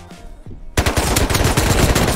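After a short quiet stretch, rapid automatic gunfire in the game Rust erupts and keeps going loud and steady, shot after shot in a fast, continuous burst.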